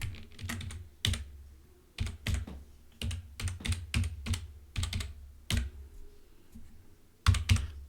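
Clicky computer keyboard typing in a quiet room, close up, with quick bursts of keystrokes separated by short pauses while a new project name is entered.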